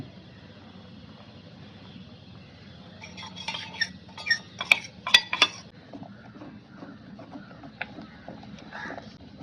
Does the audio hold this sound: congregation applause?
no